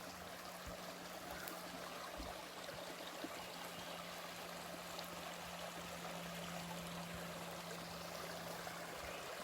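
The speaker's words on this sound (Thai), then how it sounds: "ได้ยินเสียงน้ำไหลคะ โอ้ โอ้มันเป็นสตรีมตัวนี้ เป็นอัน ลำธารเล็ก ๆ" Small forest stream flowing near a lake on a woodland walk, a steady soft trickle and babble of water that stays quiet and even throughout, with no voices.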